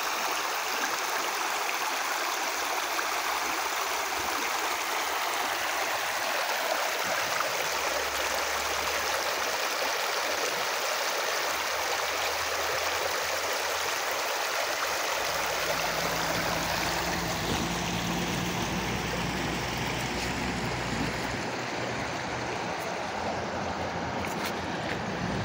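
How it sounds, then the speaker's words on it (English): The Lewis River flows with a steady, broad rush of water that continues unbroken throughout, close and fairly loud with no voices over it. "River"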